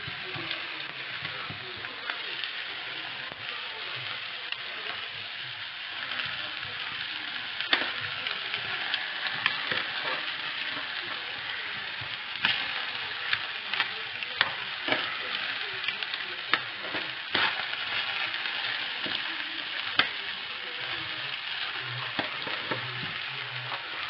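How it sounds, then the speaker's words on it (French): Potato tortilla frying in a pan outdoors, a continuous crackling sizzle with scattered sharper pops and utensil taps, close and steady with no talk. "on va faire la tortilla là, tranquille, la patate est cuite là"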